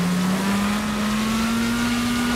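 Steady engine drone of a car called the Rocket in the video game Wreckfest, its pitch rising gradually as it accelerates, loud and continuous with no speech.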